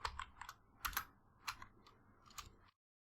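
Code being typed on a computer keyboard for a short Python program: a few quick bursts of close, light key clicks with brief pauses, then silence, no talking.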